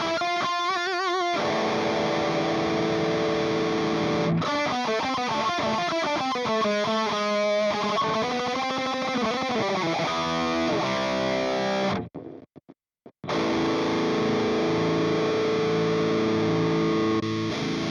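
An electric guitar played through an Engl Savage 120 MKII high-gain amp, with the tone balance boost engaged, rings out heavily distorted in sustained chords and melodic runs, cutting off briefly near the end before resuming.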